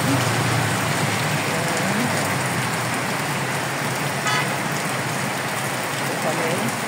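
Heavy tropical rain pours down in the Philippines, a dense unbroken roar of downpour with a car passing faintly in the background.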